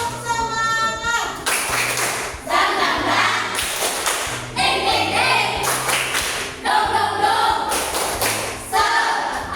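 A group of students and adults performs a rhythmic Indonesian clap chant in a classroom, with repeated patterned bursts of clapping and stamping in set sequences, loud and close, with a leader's voice counting in between.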